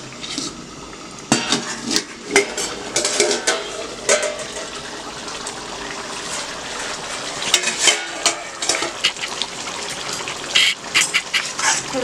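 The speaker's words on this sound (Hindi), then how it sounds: "थोड़ा सा हिला लेते हैं।" A spoon stirs egg masala in a metal cooking pan, giving irregular close scrapes and clinks of utensil on metal in short bursts, with soft sizzling underneath and no talk.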